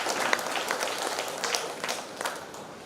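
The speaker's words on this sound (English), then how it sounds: "Let's give a big round of applause to our Honorable Chancellor, sir, for his valuable insights" Audience applauding for a university chancellor at a research conclave: steady, dense clapping from a large hall crowd sustained throughout, with a few louder individual claps standing out.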